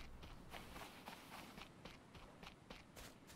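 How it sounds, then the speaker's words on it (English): Footsteps in the survival game Stranded Deep, a steady run of soft crunching steps close by, repeating evenly across the whole stretch with no one talking. "I can hear my footsteps."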